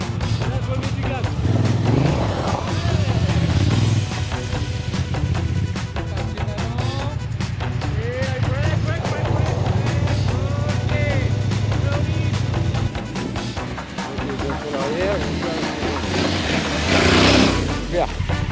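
Off-road trail motorcycle engine revving and accelerating during a training course, a loud continuous engine drone rising and falling in pitch, with someone talking over it throughout.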